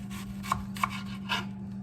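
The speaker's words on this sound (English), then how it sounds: "I'm just gonna take it and cut it really thin here" A knife slicing an onion thinly on a cutting board, a few soft, sharp cuts spaced out over a steady background hum.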